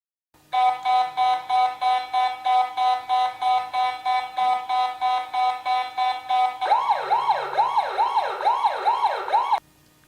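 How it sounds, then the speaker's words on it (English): Alarm siren of a solar wireless infrared beam detector security system sounds loud and alone for about ten seconds: a steady pulsing multi-tone beep that switches partway through to a rapid rising whooping wail. "When host alarms, it has a 10 seconds output. 4 different such zones has 4 various tones."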